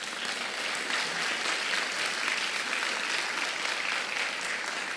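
A church congregation applauds during a celebration service, a steady wash of many hands clapping at moderate distance that holds evenly throughout, with no talking over it.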